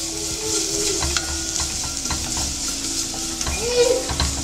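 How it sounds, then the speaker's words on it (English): Garlic sizzling in hot oil while being stirred fast in a pan, with quick spoon scrapes and clinks over a constant close fry; no speech. "pop the garlic in there. And start to stir it really fast."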